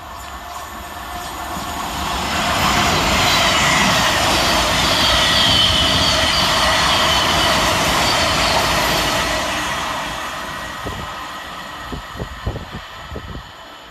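A Class 700 Thameslink train races through Hassocks station, a loud sustained rush of wheels and air that swells in, holds for several seconds, then fades with a few rail clatters at the end.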